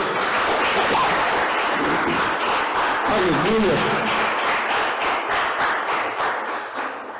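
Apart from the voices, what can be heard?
church congregation applauding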